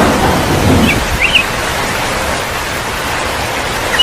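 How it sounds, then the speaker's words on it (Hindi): Steady broadband rush of heavy rain with a low rumble of thunder underneath, continuous and fairly loud throughout, no voices. "एक दिन बहुत जोरों से बादल गरजने लगा और बारिश आ गया।"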